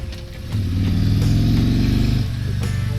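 A 2021 Harley-Davidson Tri Glide Ultra trike engine drones steadily and grows louder as it accelerates while riding, a low throbbing rumble that eases off near the end.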